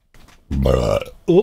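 A man lets out a loud, drawn-out burp followed by a second short one, close to the mic with no talk over it.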